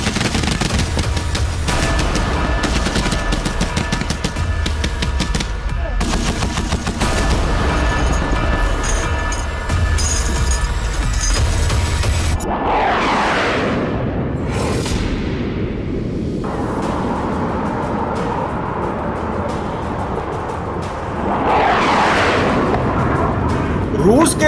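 Heavy nighttime gunfire mixed with artillery booms in a war setting, a loud, dense barrage of shots and blasts running throughout, with a few whooshing rising sounds partway through.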